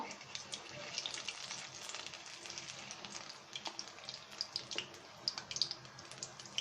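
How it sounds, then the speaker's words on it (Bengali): Pumpkin flower fritters sizzle in a pan of oil, a soft, continuous crackle with small pops scattered throughout, heard quietly and close. "এভাবে আমরা আমাদের পাঁচটাই ভেজে নেব"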